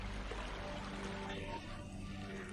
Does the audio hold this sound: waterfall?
yes